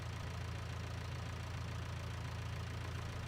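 Tractor engine idling in Farming Simulator 19, a steady low rumble that holds evenly throughout, fairly quiet and with no voices over it.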